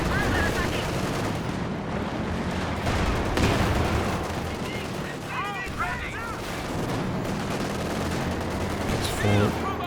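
Gunfire and cannon fire in the WWII real-time strategy game Company of Heroes 2 crackle in repeated bursts and booms across a battle, with a commentator talking over the steady combat din.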